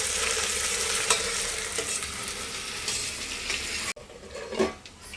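Curry leaves crackling in hot oil in a pan for chicken pulao, a loud dense sizzle that cuts off abruptly, followed by quieter frying and a few stirring knocks.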